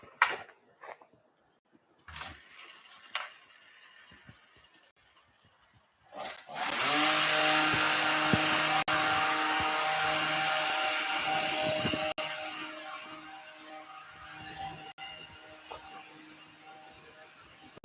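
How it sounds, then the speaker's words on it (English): A nearby electric trimmer cuts trees, starting after a few quiet knocks and then droning loud and steady for several seconds before easing down, its whine holding a constant pitch. "They're using like an electric trimmer"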